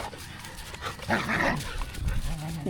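Several dogs play together outdoors, including a Belgian breed and local forest dogs, giving short yips, whimpers and growly play noises nearby, mixed with some background voices.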